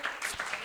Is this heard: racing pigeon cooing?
no